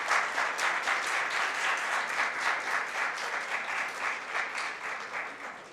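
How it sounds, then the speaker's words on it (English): Steady audience clapping at a conference award presentation, with a constant dense texture and even loudness throughout, a sustained round of applause with no talking on top. "Ladies and gentlemen, a round of applause as Dr. Faizullah Abbasi receives his token"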